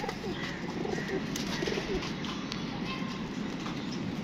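Pigeons coo softly in a loft, low murmuring calls blending with faint rustling and background noise while someone speaks nearby.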